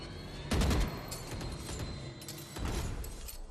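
Bursts of gunfire from the tactical shooter Valorant during a Champions Paris playoff match, a loud volley near the start followed by further shots and clatter, with busy game ambience between.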